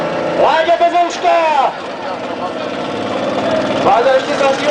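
A drift car's engine is warmed up at a Sosnová drift event, giving a few rising and falling revs over an idle, while an announcer talks in Czech over it.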